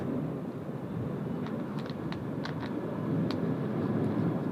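A Qantas airliner banks right just after takeoff from Sydney Airport in strong wind, giving a steady, distant, broadband roar that swells slightly toward the end.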